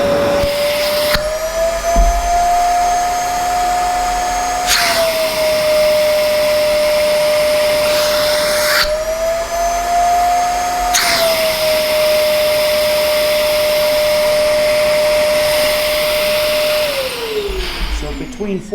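Zero-G F3d portable vacuum cleaner running through a suction test, a loud continuous whine whose pitch rises and drops repeatedly as the nozzle is blocked and released, with brief thumps at each change.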